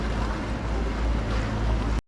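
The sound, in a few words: boat on a canal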